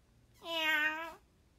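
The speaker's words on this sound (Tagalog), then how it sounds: "Ano yan? Pusa." A single clear cat meow, drawn out and tonal, rising then falling over about a second, close and alone against quiet background.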